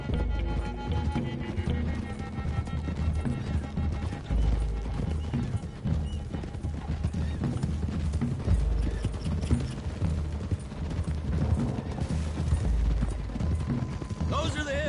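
Galloping horse hooves pound steadily and continuously over a busy, mechanical Red Dead Redemption 2 game soundtrack, with an occasional whinny.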